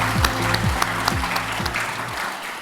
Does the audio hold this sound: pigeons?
no